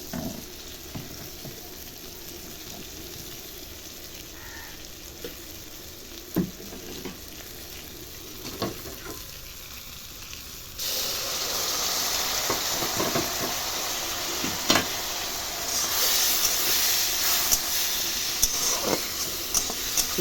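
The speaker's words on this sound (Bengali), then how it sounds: "যাতে করে গুঁড়ো মশলাগুলো যাতে এখানে পুড়ে না যায়, তাই হালকা একটু গরম জল এর সঙ্গে আমি দিলাম" Hot water poured into frying ground spices for masala dal: a quiet pan crackle with occasional stirring knocks, then the sizzle abruptly swells into a loud, sustained hissing roar.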